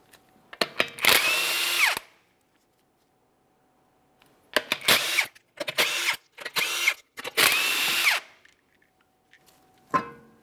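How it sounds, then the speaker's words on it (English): A power tool whirs in several short, loud bursts, separated by pauses, as it spins off 21mm wheel lug nuts on a 2014-2018 Mazda 3. "you're going to remove all 5 of your 21mm lug nuts and the wheel"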